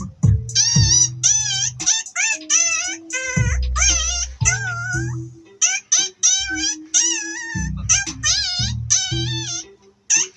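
A man imitates a cat meowing to the tune of the national anthem, a long run of loud, close, pitch-bending vocal meows with brief pauses, alongside a low rhythmic backing sound.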